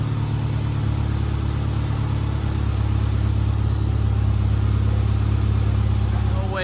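A Subaru Impreza GC8 rally car engine runs steadily at idle after starting, a loud, constant low rumble with a persistent high whine and no speech.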